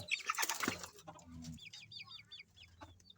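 Young silkie chicks cheep and cluck close by, a loud flurry of sharp calls at first followed by a quieter series of rapid chirps, with faint rustling in between.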